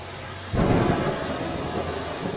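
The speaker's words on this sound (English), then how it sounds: "In this kind of rain," A thunderstorm with heavy rain in a jungle at night: steady close rainfall, then a loud rolling thunderclap bursts in about half a second and rumbles on beneath the downpour, with no voices.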